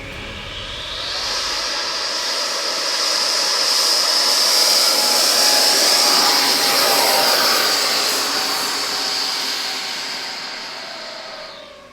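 Radio-controlled B-58 Hustler scale model jet on a runway takeoff attempt, its high-pitched turbine whine swelling to a steady loud roar that holds for several seconds, then gradually fades as the model moves away.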